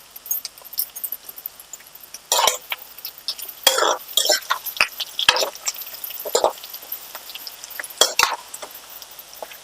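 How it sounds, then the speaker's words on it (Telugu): Onions frying in a pan for a Telugu kanda gadda (yam) fry curry, with scattered sizzling under repeated sharp scraping and stirring clinks of a utensil against the pan, close by and fairly loud in bursts. "కొంచెం ఉల్లిగడ్డ ఫ్రై అవ్వాలి మనకి"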